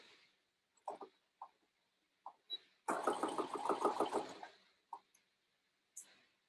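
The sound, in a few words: sewing machine back stitching a child's dress sleeve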